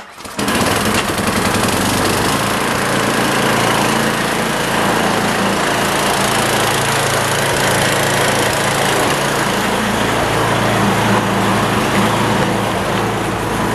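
A Chevrolet Suburban engine is cranked and catches, then runs with a loud, steady drone and rumble that continues unbroken at close range.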